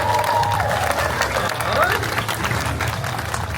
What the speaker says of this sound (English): Applause cue.